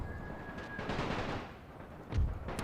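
Troops fire rifles in The Great War video game, set in Serbia, with a scattered volley of sharp cracks ringing out at a distance and one heavier nearby shot near the end.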